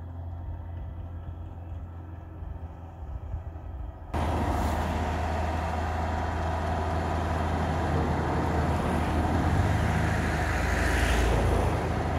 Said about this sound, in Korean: 논을 경작하는 트랙터 소리와 함께